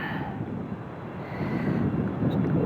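Wind blusters across the microphone while fishing from a boat, a steady low rumbling roar that grows slightly stronger toward the end, with no voices.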